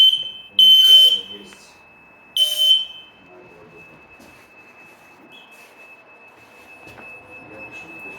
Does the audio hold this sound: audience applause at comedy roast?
no